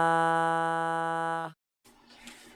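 A synthesized Vocaloid 5 singing voice with the down 2 attack effect pulled out to full length holds a bright, buzzy sustained note whose pitch sags slightly downward. It cuts off sharply, and after a short silence a fainter, noisier vocal tone follows.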